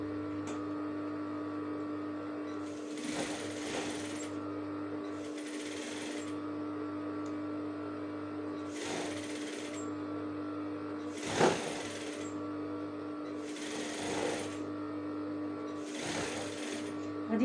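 A sewing machine stitches a hair ponytail in several bursts of rapid mechanical whirring, each lasting a second or two, separated by a steady hum and handling noises.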